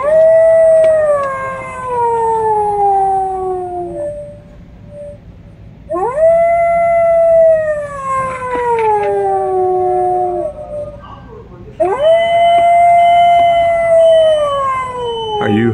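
A Halloween animatronic dog at a Big Lots store gives three long, loud, drawn-out howls, each rising and then sliding down in pitch, over steady store background noise.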